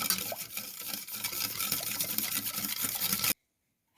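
Homemade full-fat milk being whisked into a cream base for a chocolate ice-cream-style cake, a steady, close, busy swishing and clinking that runs continuously for about three seconds, then cuts to silence.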